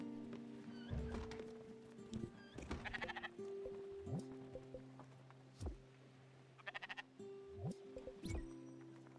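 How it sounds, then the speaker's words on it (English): Sheep bleat again and again while being sheared in the cozy video game Spiritfarer, with short wavering cries scattered across the stretch between soft thunks and game chimes, fairly quiet overall. "I don't even know why I'm continuing to shear the sheep right now."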